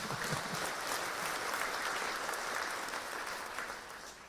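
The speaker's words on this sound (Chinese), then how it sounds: "我们向那个年代的人一个掌声" A lecture audience applauds at length, dense steady clapping from many hands that fades slightly toward the end.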